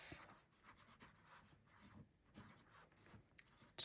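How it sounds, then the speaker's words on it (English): An Opus Koloro fountain pen scratches out a handwritten date on paper, soft nib strokes with brief pauses between letters, close and quiet in a still room. "Oh, I should write the date."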